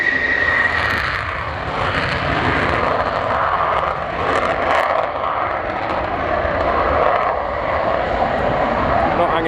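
Several F-16 fighter jets taxiing at Schleswig-Jagel airbase during Air Defender 23, a loud steady engine roar and whine filling the whole stretch with small swells, a voice briefly audible over it.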